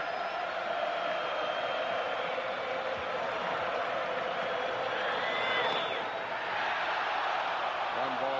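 Baseball stadium crowd at the 1991 World Series, Minnesota Twins at Atlanta Braves, roaring steadily after a near strikeout in the ninth, a broad continuous cheer with commentary over it.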